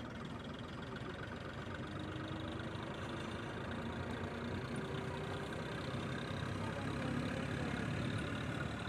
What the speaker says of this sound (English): And we're off on our tractor ride.